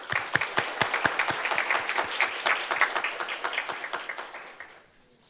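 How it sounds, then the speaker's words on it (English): A student senate audience applauds an honoree named Senator of the Month, a sparse crowd's distinct individual claps ringing out steadily for about five seconds before trailing off. "So let's give him a round of applause"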